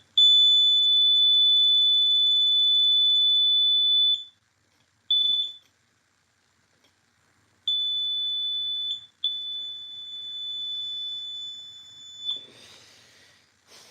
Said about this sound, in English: That's a very loud beep sound.